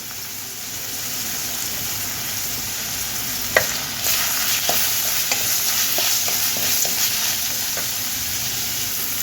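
Curry leaves crackle and sizzle in hot oil for a tomato chutney, a continuous close hiss with a sharp pop near the start and scattered spoon taps and stirring scrapes.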